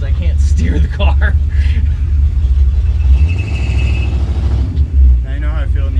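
A 1976 Chevy Camaro driving, with a deep, steady engine rumble and a low drone from the car throughout. People talk loudly over it from inside the cabin.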